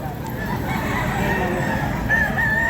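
A White Kelso gamecock rooster crows near the end, a short, clear call over a busy background of murmuring voices and other birds at a gamefowl sale.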